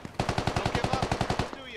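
Rapid automatic gunfire in the military shooter Squad, about fourteen evenly spaced sharp bursts in a quick rhythm, fairly close and loud, then stopping abruptly with a fading tail.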